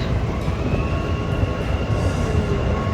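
Dubai Metro train at a station platform, a steady loud rumble of rail and car noise with a faint tonal whine running throughout, no voices.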